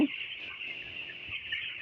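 Dense, continuous high peeping of many fourteen-day-old broiler chicks, steady throughout with no pauses, fairly close.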